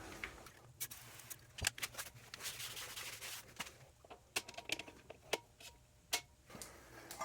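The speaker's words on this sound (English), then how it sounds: "I'm going to clean up the surface of this flywheel" Rubbing and scrubbing on the surface of a car flywheel before clutch assembly, with soft close scuffing under a scatter of sharp ticks and small knocks that recur irregularly throughout, quiet and without voices.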